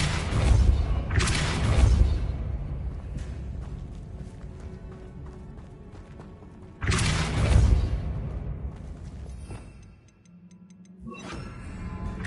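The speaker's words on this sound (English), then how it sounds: "Depulso." Depulso spell cast in the video game Hogwarts Legacy, heard as two loud whooshing bursts about five seconds apart, each followed by rumbling decay and scattered ticking game sounds.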